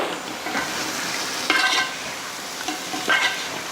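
Chicken pieces and tomato masala gravy sizzle steadily in a pan, with a few louder scraping stirs rising over the continuous frying hiss; no talking.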